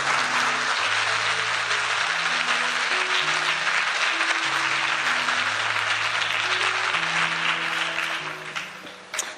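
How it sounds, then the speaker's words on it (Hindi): A church congregation claps loudly for Jesus, a sustained dense round of applause over held musical tones, thinning out near the end. "आइए यीशु के लिए एक जोरदार ताली बजाएंगे।"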